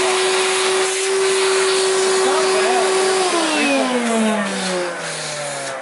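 A Hoover Celebrity floating vacuum cleaner running loud and close, with a steady motor whine that drops in pitch midway, as if loaded, while people talk over it.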